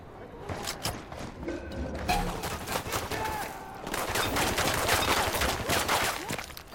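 Submachine gun fire in the video game Ghost Recon Wildlands, dense rapid bursts of gunfire with mechanical clatter and game effects, growing louder and more sustained toward the end, mixed with a busy game soundscape.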